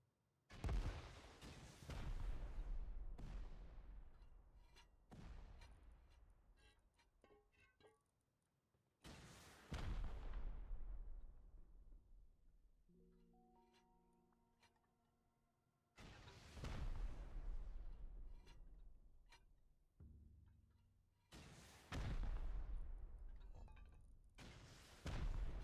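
Rockets fire during a raid in the video game Rust, with several loud booming blasts that each decay slowly, spaced a few seconds apart, and a brief tonal game sound between them.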